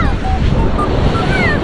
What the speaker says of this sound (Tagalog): Ang lalaki na naman ng alon